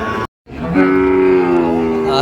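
A Sahiwal cow lets out a long, loud moo close by at a cattle market, droning on after a brief moment of silence.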